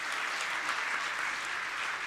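Sustained applause from an audience at a school orchestra performance, a dense, even wash of many hands clapping continuously without pause.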